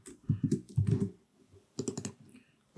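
Someone types AutoLISP code on a computer keyboard, with two quick bursts of close key clicks separated by a short pause.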